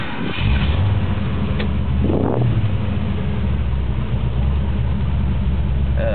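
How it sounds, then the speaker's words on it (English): A car engine with a Dynomax dual exhaust starts and rumbles at a deep, steady idle with a brief rev, loud and close, no talking. "It's got a new exhaust, new Dynamax dual exhaust, which sounds real good on the car."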